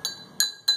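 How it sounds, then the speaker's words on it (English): A spoon clinks against a hot glass while stirring a solvent, giving three bright, ringing taps spaced a few tenths of a second apart, close and crisp, with no voices. "Insert your spoons, we're gonna stir up"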